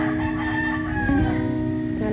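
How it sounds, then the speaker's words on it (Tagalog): A rooster crows once in the distance over a steady, dense background of hum and ambient noise. "Nanamalo ng manok."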